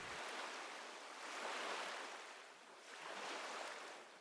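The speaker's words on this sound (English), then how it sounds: "the sound of the ocean begins to blend more softly into your awareness" Soft ocean surf washing in slow swells, rising and falling twice with a broad hiss, quiet and unbroken by voices.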